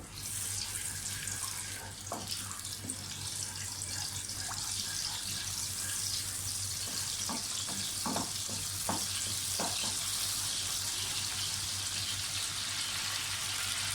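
Steady, continuous sizzling of curry leaves frying in hot ghee, with a few sharp crackles and pops scattered through the middle. No voices.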